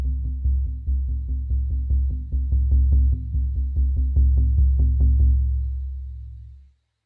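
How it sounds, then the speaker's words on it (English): Slow, steady shamanic frame drum beat, each deep resonant stroke evenly spaced with booming low tones that ring together, played alone and close, fading out at the end. "the drum is going to sound like this"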